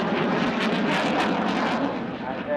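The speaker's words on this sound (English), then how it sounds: "Pitching the aircraft into knife edge, there into the inverted, upside down" An RAF Typhoon FGR4 jet flying aerobatics at an air show, a loud continuous broadband engine roar that swells and wavers as it maneuvers, with a commentator talking over it.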